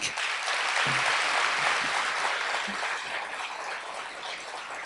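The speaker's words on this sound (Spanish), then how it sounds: "Aplausos para ellos." An audience at a talk on urban agriculture breaks into sustained applause, a dense wash of clapping that holds steady and fades slightly toward the end.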